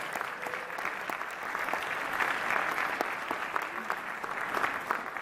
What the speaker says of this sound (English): let's give another round of applause for all of the students who came out